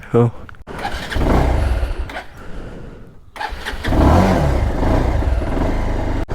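A motorbike engine starts outside a house and settles into a steady mid-pitched idle, then revs up again, loud and close, with someone talking over it between bursts.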